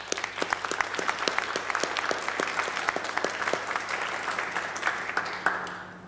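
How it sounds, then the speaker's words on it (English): An audience at a diploma ceremony for an epidemiology master's program applauds the teaching staff, a loud, sustained round of clapping in a hall with no voices over it. "I would like a round of applause for the teaching staff."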